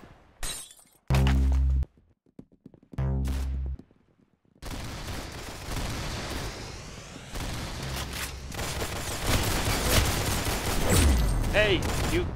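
Gunfire in the Roblox game Arsenal, with two loud sharp bursts early on, then sustained rapid shooting and breaking-glass crashes building toward the end, mixed with a voice speaking.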